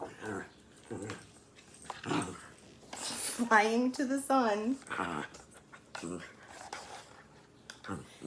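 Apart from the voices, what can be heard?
dog whimpering and panting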